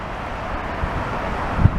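Wind blows along a street, a steady broadband rush with gusty swells and a brief thump near the end, loud and close to the microphone, with no talking.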